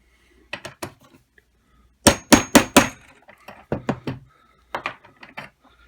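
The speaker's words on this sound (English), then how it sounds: "Next, I'll put this Welch plug in. The tool I'll use for it is this one here." A Zama tool taps a Welch plug into a carburetor seat, producing sharp metallic hammer strikes close by: a few light taps, then a quick burst of four loud blows, followed by more scattered taps.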